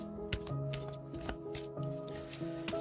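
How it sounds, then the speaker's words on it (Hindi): Tarot cards being shuffled by hand: quiet repeated riffling and snapping card sounds in quick bursts, with soft music in the background and no talking. "करते हैं शफल।"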